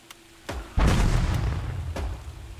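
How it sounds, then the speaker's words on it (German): Explosions in a World War trench battle video game set in a swamp, heard as a sharp pop and then a heavy, booming blast that rumbles on with another thud behind it, loud and close with no talk. "Achtung, Explosion."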